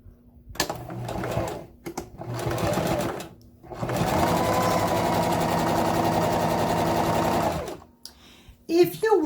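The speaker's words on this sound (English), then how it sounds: "we want to make sure we back stitch and go down the final end" A sewing machine back stitching along the final end of a handbag, two short runs of rapid stitching followed by a longer steady run, loud and close, with talking around it.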